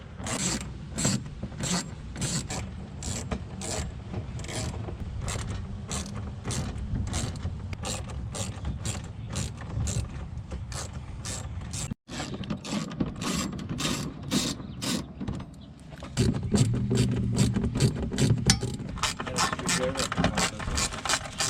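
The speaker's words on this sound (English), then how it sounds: "The next step is going to be to remove all the 7mm bolts around the wheel liner." A hand ratchet backs out 7mm bolts from the wheel liner of a Chevy Malibu, clicking rapidly and repeatedly up close. Brief pauses separate the runs, and a low hum sits underneath.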